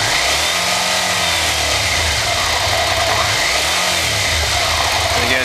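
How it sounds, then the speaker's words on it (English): Car engine revved repeatedly during a tachometer signal test, loud sustained running with two rising-and-falling rev sweeps, with a voice talking over it. "here's what it looks like when you rev it up"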